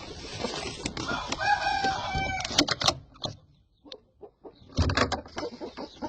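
An Indian game rooster crows in a long, strained call, then short clucks and scratchy bursts follow, with a second crow starting near the end; the sound is close and fairly loud with no speech.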